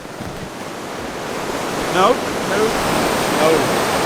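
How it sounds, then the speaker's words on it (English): A small waterfall of rushing water roars steadily at close range, a constant broadband wash, while people exchange a few brief words over it. "It's kind of a waterfall,"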